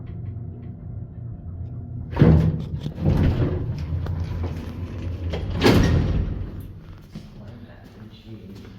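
The door of an antique Seaberg traction elevator in an apartment building rumbles and slides with two heavy thudding movements, close by, while people talk over it.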